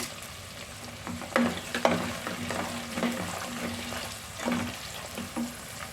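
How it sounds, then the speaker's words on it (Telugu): Garlic and dried red chillies fry in hot oil with a soft continuous crackle, overlaid by intermittent spoon scrapes and small clatters, fairly quiet and close, no talking. "అలాగే వెల్లుల్లిపాయలు కూడా వేసుకోవాలి ఇలాగా ఎండుమిర్చి కూడా వేసుకోవాలి"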